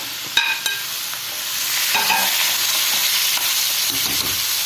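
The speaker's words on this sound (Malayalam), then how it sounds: "നന്നായിട്ട് ഇളക്കി ഒരു 2 മിനിറ്റ് അടച്ച് വയ്ക്കാം" A spoon stirs potato and carrot masala with green chilli powder in a hot pan, scraping and clinking over a steady sizzle, with a few sharp knocks near the start.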